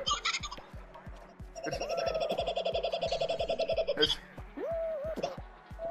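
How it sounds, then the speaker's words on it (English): Kookaburra-like cackling call in Fall Guys, a rapid rhythmic laughing sequence with steady pulsing beats underneath, loud and close, with brief bird-like whoops toward the end. "What the fuck is that noise? A kookaburra."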